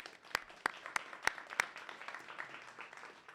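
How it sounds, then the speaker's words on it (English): A debate competition audience gives a brief round of applause, a few sharp separate claps at first, then a softer scattered patter of hands. "we want to give you a round of applause"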